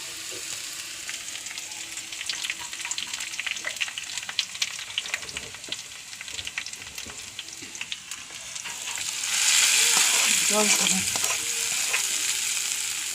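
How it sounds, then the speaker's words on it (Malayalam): Onions sizzle and crackle in hot oil with stirring noises, then the frying surges louder and brighter as curry leaves go into the pan. "ഉള്ളി മൊരിഞ്ഞു രണ്ട് വേപ്പിനലി ഇടുന്നു"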